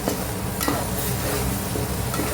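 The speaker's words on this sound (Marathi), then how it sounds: "मसाले छान फ्राय झालेले आहेत त्याच्यामध्ये आपण मटण घालून घेऊया आता मिक्स करून घेऊया" Mutton stirred into fried spices in a pot, giving a steady close sizzle with scraping stirs and a few sharp utensil knocks against the vessel, loud and continuous with no talking.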